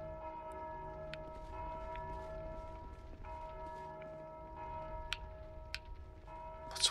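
Bells ring in a Dark Souls 2 game scene with long sustained tones that layer and fade, faint and distant, with occasional soft clicks and no talking.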